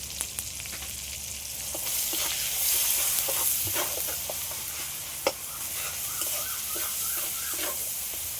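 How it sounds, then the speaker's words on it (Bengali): Tomato frying in a pan for dal, seasoned with salt and turmeric, gives a steady close sizzle with occasional stirring scrapes and clicks, and no voices. "টমেটোটা একটু ভেজে নেব তারপরে বাকি মশলাগুলো দিয়ে দেবো"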